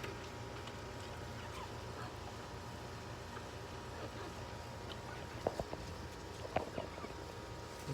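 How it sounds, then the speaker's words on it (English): Chickens give soft, faint clucks and a couple of brief sharper calls over a quiet outdoor background, with the clearest sounds near the end. "There's some other chickens here."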